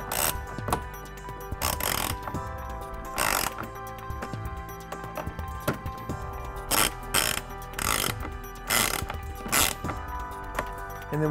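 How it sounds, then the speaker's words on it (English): A ratchet with a 10 millimeter socket tightening screws while a trailer wiring harness is installed on a 2006 Honda Pilot, heard as repeated short bursts of rapid ratcheting clicks separated by brief pauses. "And then we'll tighten up our screws using a 10 millimeter socket."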